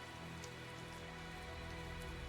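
Rain falls steadily in the Tales of Zestiria video game, a soft, constant patter of drops on surfaces, faint and even throughout with no voices.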